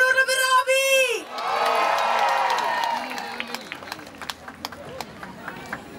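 Concert crowd at an outdoor pop show in Madonna di Campiglio cheering and shouting, a loud sustained roar of voices swelling after a short shout and then thinning into scattered whoops and claps.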